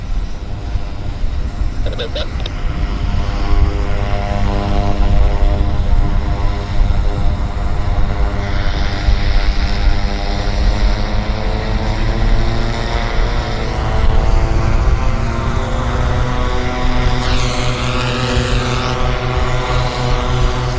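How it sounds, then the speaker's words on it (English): A Piper Navajo twin-engine propeller aircraft runs up its engines in the run-up bay at Vancouver Airport, giving a loud, steady droning roar with harmonic hum that swells and eases slightly, heard from nearby with no talk. "the Piper Navajo that I showed you is in the run-up bay, running up his engines"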